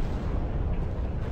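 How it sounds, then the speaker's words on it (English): Vapor cloud explosion at an industrial refinery unit, set off by a backfiring truck, heard as a dense, continuous roaring rumble of blast noise, loud and unbroken with no voices. "Powerful explosions swept through the area."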